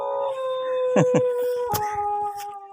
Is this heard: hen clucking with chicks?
no